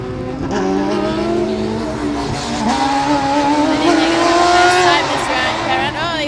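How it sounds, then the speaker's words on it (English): A Formula Student race car on an autocross lap at Formula Student Germany 2012, its high-revving engine droning loud and continuous, pitch climbing and dropping through shifts and corners as it passes. "They come right back round to complete their final lap of Autocross today."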